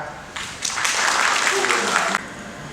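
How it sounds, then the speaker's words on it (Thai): Applause from an audience at a Thai rice industry event, rising suddenly and holding as a steady, moderately loud patter for under two seconds before cutting off. "ขอเสียงปรบมือด้วยครับ"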